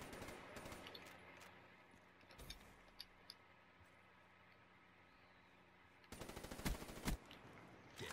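Gunfire in a first-person shooter game: a short burst near the start, a few isolated shots in the middle, then a rapid automatic volley toward the end, all over a quiet low hum.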